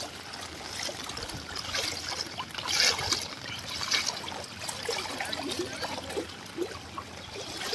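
Floodwater flowing through a Gujarat village street near a primary school after heavy rain, a steady broadband rush and trickle that stays close and continuous, with brief louder splashes.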